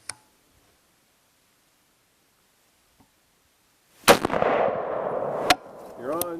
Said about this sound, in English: Good shot.